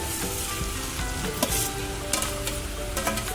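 Cucumber pieces sizzle steadily in a hot pan while cooking for a cucumber and tomato pachadi, a continuous close frying hiss with a few small stirring bumps and no voices.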